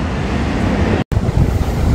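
Strong coastal wind roars across the microphone on Nan'ao Island, near the wind farm, as a loud, steady broadband rush that cuts out for a split second midway, with no voices.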